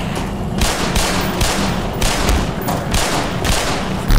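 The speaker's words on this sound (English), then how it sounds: "Fucking shotguns." Shotgun blasts and gunfire in the shooter game Black Mesa: loud, close, heavy reports repeating about every half second in a steady volley, with no speech.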